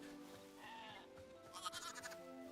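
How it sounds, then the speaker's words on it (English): Sheep in the video game Hytale bleat in a wavering, nasal voice, a few overlapping calls over a quiet, low game background. "Sheep."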